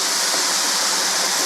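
Water pours steadily into a pot of potatoes, a continuous close splashing rush with no talk.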